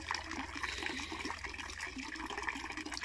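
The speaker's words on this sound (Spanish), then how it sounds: "de ese grifo sale el agua nueva" Fresh water pours from a tap into an outdoor fish pond, a soft, steady splashing and gurgle heard faintly and alone, with no talking.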